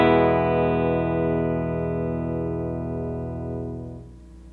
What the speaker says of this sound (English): Here I'm using my amp set to the clean channel with the blues EQ setting that we just learned.